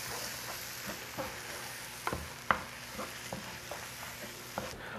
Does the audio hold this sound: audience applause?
no